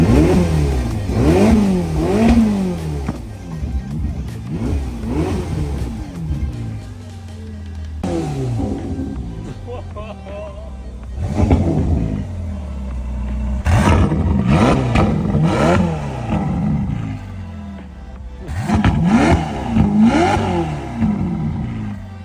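A rebuilt, previously wrecked Ferrari California T engine starts and then revs repeatedly, with several sharp rising and falling surges separated by brief idle pauses, loud and close.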